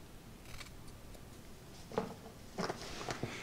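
Scissors snipping the corner of a beard, a few quiet crisp cuts close to the mic, with two clustered snips near the end against a faint hushed background.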